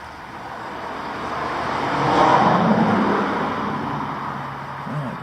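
A car passes along a nearby roadway, its tyre and engine noise swelling to a broad whoosh at the midpoint and fading away, over a steady background of traffic hum.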